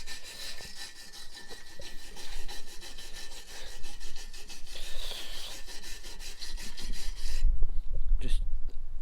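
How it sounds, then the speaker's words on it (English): A wire brush scrubs corrosion out of a car's rear subframe bushing, making a continuous, close, harsh rasping scratch with a quick back-and-forth texture. It breaks off near the end into a few duller knocks. "what we're going to do is going to give it a go with the old wire brush and see what we can do"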